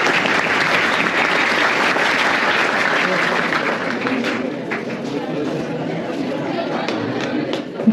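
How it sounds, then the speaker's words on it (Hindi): Loud, sustained applause from a group of schoolchildren welcoming a chief guest at a legal literacy and awareness event, steady clapping for the full length that thins slightly toward the end. "सभी बच्चे जोरदार तालियों से स्वागत"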